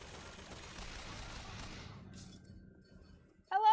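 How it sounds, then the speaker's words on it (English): Machine gun fire in BioShock Infinite, a dense, continuous rattle of shots that thins and fades out over a few seconds before a brief sharp sound cuts in at the end. "Machine gun's so much better than pistol."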